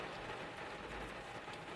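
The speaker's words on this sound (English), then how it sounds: "It's like 45 and shitting and pissing down rain" Rain pouring down on a cold day, a faint steady hiss of falling water with no voices.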